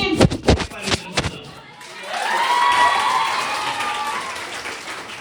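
Two children clap loudly at a retirement celebration, a quick burst of sharp close-up claps that stops, followed by a swelling murmur of voices in the room.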